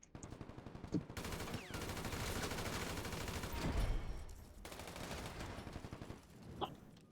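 Sustained automatic gunfire from a shotgun-armed firefight in GTA V Online, dense rapid bursts running almost continuously with brief pauses, loud and close.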